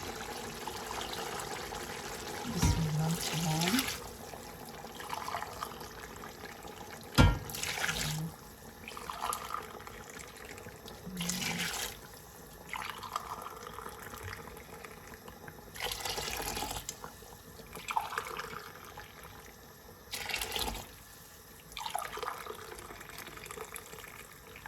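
Water is poured into a pot for chicken pulao in a series of short splashing bursts with brief pauses between them, one sharp clank, and a voice briefly speaking.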